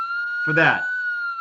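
Police car siren wailing steadily with a rising, warbling sweep in the middle, heard close and continuous behind a brief bit of speech.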